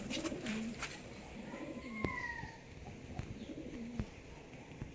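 Madrasi pigeons at a pigeon sale coo softly and repeatedly in low rounded calls, with occasional higher chirps and faint background noise around them.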